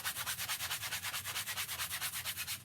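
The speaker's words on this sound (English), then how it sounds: "and I just give it a really light sand." Close-up light sanding of a stretched canvas with a small sheet of sandpaper: brisk, evenly paced back-and-forth scratchy strokes, soft but clear, nothing else audible.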